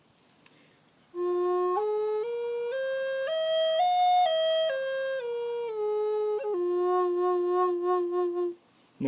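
A native-style flute plays a pentatonic minor scale, stepping up then back down in clear sustained breathy notes, ending on a low note with a brief fluttering chirp ornament; played alone at moderate volume.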